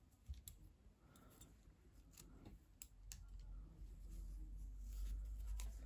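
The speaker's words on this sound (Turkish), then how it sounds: "İpliği kesiyorum." Scissors snip through yarn while finishing a knitted hat cord, giving a few faint, sharp clicks and cuts close by against a quiet background.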